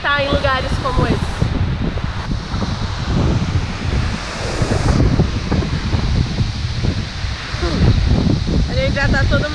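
Waterfall at a guesthouse in Praia Grande, a steady loud rushing roar of falling water filling the scene, with a person speaking over it throughout.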